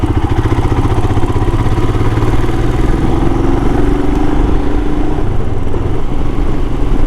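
A motorcycle engine thrums loudly and steadily while riding on a road trip, with a constant low pulsing drone and wind noise throughout and no talk.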